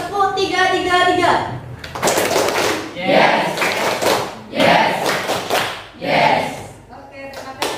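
A class of children claps a counted rhythm in three close bursts of sharp hand claps, with an adult's voice speaking before them.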